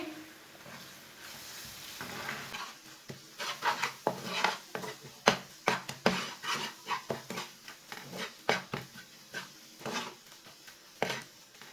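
Two eggs being stirred into fried masala in a pan while cooking macaroni, with a soft sizzle under close, irregular scraping and clinking of a spoon against the pan.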